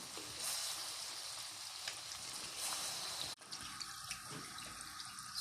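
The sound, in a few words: lokma dough frying in hot oil, stirred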